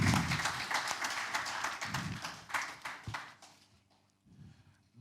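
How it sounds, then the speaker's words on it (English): Audience applause rings out at an energy-sector power dialogue event as a speaker is called up, steady clapping that fades over several seconds before a fresh burst begins at the end. "Please give me a round of applause."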